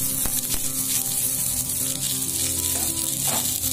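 Steady, close sizzle of alu vadi frying in oil in a pan over low gas, a continuous hiss with faint crackles and a brief stirring sound partway through.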